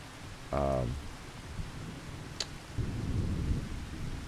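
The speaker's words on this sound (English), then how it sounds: "yeah, it's raining" Rain and thunder in the farming game Pasta King give a soft, steady patter of rain, a short low rumble of thunder near the start, and a sharp brief crack, then heavier rain noise returns, with no voices.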